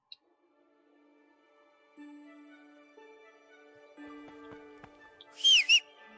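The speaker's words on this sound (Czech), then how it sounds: "Proč pískáš pořád?" In the medieval game Kingdom Come: Deliverance, a short, bright whistle rises and falls near the end of an otherwise quiet, sparse stretch with faint ambient tones and a few soft knocks.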